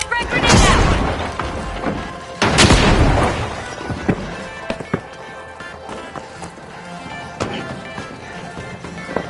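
A frag grenade detonates in The Finals, a loud broadband boom near the start followed by a second heavy blast a couple of seconds later, then scattered debris thuds and fainter pops trailing off amid game noise.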